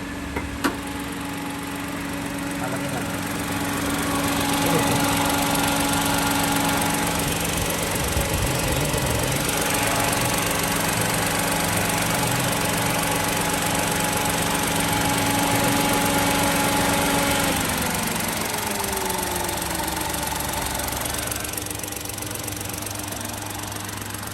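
An engine idles steadily and loudly for the whole stretch, a constant mechanical hum with a slight shift in pitch partway through.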